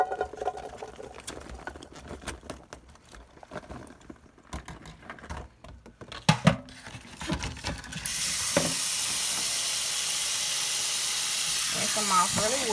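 Cool tap water runs steadily over three cups of blueberries being rinsed in a kitchen, a bright continuous hiss and patter that follows scattered handling clatter and rustling, with faint voice sounds at the end.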